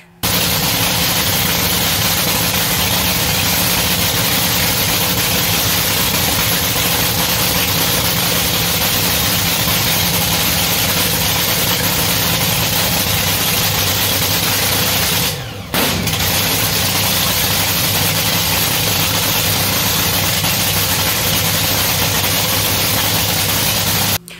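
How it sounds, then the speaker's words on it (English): A Top Fuel dragster engine roars during a drag racing warm-up, a loud, sustained, saturated blast that fills the whole stretch, broken only by a short dip near the middle. "That is the throttle whack."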